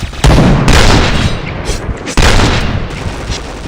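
Two heavy grenade blasts boom loudly in a first-person shooter game, one right after the other, each with a long rumbling tail.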